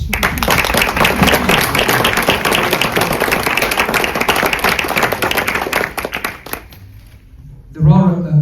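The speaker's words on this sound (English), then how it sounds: "So I would like everybody to give all of us a round of applause." A crowd applauds after a Greyhound Derby final speech in 2025: dense, loud clapping for about six seconds that fades out abruptly, followed by a brief quiet and then a voice resuming.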